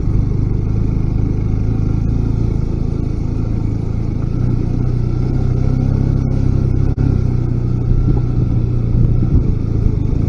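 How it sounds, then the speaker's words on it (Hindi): A loaded 160cc motorcycle climbing a mountain road, its engine a loud continuous mid-pitched drone with steady throttle and wind rumble, no voices. "160 सीसी की बाइक, लेकिन दमदार बाइक है।"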